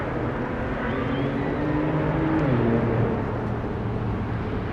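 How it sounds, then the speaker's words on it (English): Cars race along the Las Vegas Strip, engines revving with a rising and falling drone that passes nearby, loud and continuous over street noise. "And the loud cars racing to the next red light."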